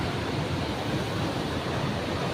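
Sea surf breaking on Neduganda beach, a steady broadband wash of waves with constant roar and no pauses, fairly loud and close, with no voices.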